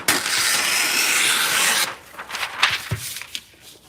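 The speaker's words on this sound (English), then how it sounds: "I have two pruners I have to sharpen" Pruners are sharpened at a sharpening station: a loud, continuous rasping stroke of metal rubbing for nearly two seconds, then a few lighter scrapes and knocks.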